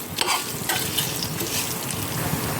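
Grated beetroot being roasted and stirred in a pan for a beetroot chutney, giving a steady close sizzle with scraping stir strokes, with no voices over it.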